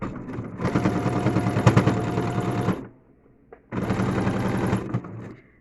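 Sewing machine running a safety stitch along the edge of a terry hand towel: two steady bursts of rapid, rattling stitching, the first about three seconds, then a short pause and a second run, loud and close.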